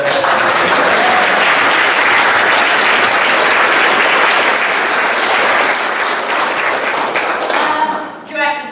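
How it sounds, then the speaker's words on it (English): Loud, sustained audience applause fills a campaign kickoff event in Bemidji, Minnesota, dense clapping holding steady for several seconds before thinning out and fading near the end. "Round of applause."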